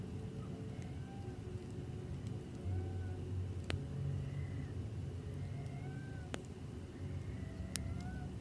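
Several of about twenty cats outdoors giving short, faint meows at intervals over a low steady background rumble, with occasional sharp clicks.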